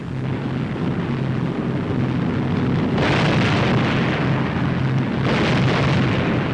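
Bombs bursting during a 1944 American daylight precision bombing raid over Germany, a continuous loud roar of blasts with heavier surges partway through and near the end.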